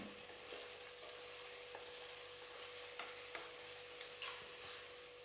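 Babool (acacia) pod vegetable being mixed in a pan with salt and kalonji seeds: a faint, steady sizzle with occasional light clicks and scrapes of the spoon, no voices.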